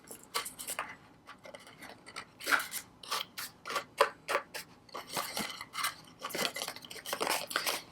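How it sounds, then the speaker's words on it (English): Tape backing is peeled off adhesive in a craft project, heard as a series of close, crackly ripping and rustling bursts that come in irregular clusters with short pauses between them. "now we're just going to go ahead and take the tape backing off."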